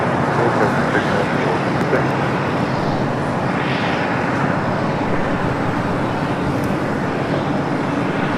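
An airliner taxiing at LAX airport, a steady broadband jet-engine rumble and roar that stays constant and fairly loud throughout, mixed with general airport and road traffic noise.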